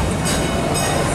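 A Busch Gardens park railway train rumbles steadily along its track, a loud continuous rolling noise with faint higher rail hiss.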